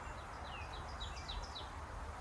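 Birds sing faintly in the Nova Scotia outdoors, a few thin high chirps and short whistled phrases repeating over a steady bed of broadband background noise.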